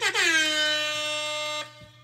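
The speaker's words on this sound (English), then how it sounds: "Let's give them a couple little air horns." A single air horn sound effect played from a mix board blasts loudly for about a second and a half, steady and brassy, then cuts off abruptly.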